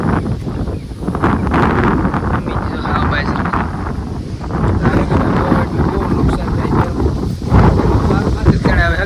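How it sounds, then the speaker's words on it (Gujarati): Wind buffets and roars across an open pearl millet farm in steady light rain, rushing loudly close to the microphone with indistinct voices mixed in. "વરસાદ એક ધારો ધીમો ધીમો ચાલુ છે અને પવન કન્ટિન્યુ એક જ ધારો ફરી આવે કરી જાય"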